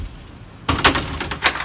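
A bifold door on a 2019 Grady-White Freedom 235 boat swung shut, a sudden close slide and clack followed by a couple of short rattling knocks as it latches, fairly loud against faint background.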